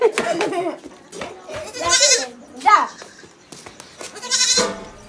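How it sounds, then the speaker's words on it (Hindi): Goat bleating in a rural setting during a Chhath Puja outing at a Ganges ghat, several short nearby bleats mixed with children's and adults' chatter. "तो ये भाग गई बकरी"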